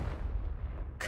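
A Confringo blast spell from Hogwarts Legacy goes off as a short, deep, booming burst with a rumbling low-end tail that fades before a sharp crack at the end.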